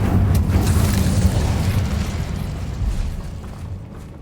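A fiery Incendio spell blast in Hogwarts Legacy: a loud, broadband roaring boom that rumbles steadily for about four seconds and slowly fades, with no voices over it.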